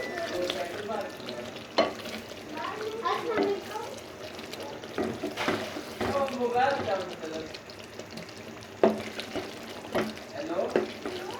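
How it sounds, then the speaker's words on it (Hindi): Chicken karahi with green chillies and coarse black pepper sizzling in a pan while being stirred, scraping and clinking sounds over a steady frying hiss, with a couple of sharper knocks. "बस अब आप इसे अच्छे तरीके से हिला लें।"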